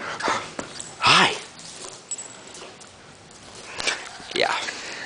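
A young female puppy whimpers in short, rising whines, close to the mic with quiet gaps and light shuffling noises in between.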